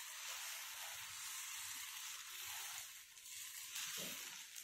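Batter sizzling steadily on a hot tawa griddle for a shevai (vermicelli) breakfast dish, a continuous bright hiss with a few soft scraping touches, close and fairly quiet, no one speaking.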